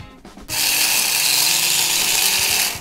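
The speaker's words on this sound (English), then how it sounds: "basically it's supposed to dry grind the coffee but it's very handy for grinding little portions of masalas" A coffee grinder dry-grinds masala spices for chana masala, giving a loud, steady electric whir that starts abruptly and runs without a break for just over two seconds.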